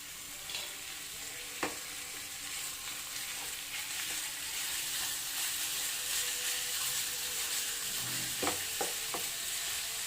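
Minced mutton fries in a pan with ginger and garlic over a medium flame, giving a continuous close sizzle with a few clinks and scrapes of a stirring spoon.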